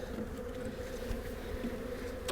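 Honeybees buzz steadily inside a small beehive during a check after a hard freeze, a continuous close drone that stays even throughout with no talking.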